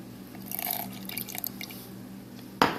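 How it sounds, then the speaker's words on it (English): A quarter cup of water trickles and drips into a kombucha sourdough starter for a couple of seconds, ending with a sudden splash or clunk. "I'm going to be adding a 1/4 cup of water today"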